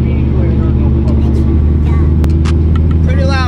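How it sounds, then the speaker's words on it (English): A loud drift car engine drones steadily at a race track track day, close and continuous, with a person talking over it. "This is how loud the car is."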